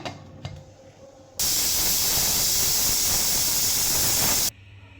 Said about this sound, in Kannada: ಈಗ ವಿಷಲ್ ಆಗೋಕ್ಕೆ ಕ್ಲೋಸಪ್ ಮಾಡೋಣ